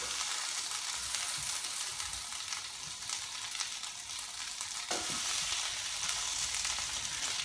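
Sliced tinned potatoes sizzle steadily in a hot pan, a constant close crackling hiss with a brief scrape partway through, no voices.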